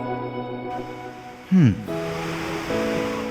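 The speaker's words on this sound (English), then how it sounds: "The sounds and power of pounding water. A waterfall" Constant roar of pounding water from a waterfall in Migori County, Kenya, mixed with tonal music and a brief swooping sound in the middle.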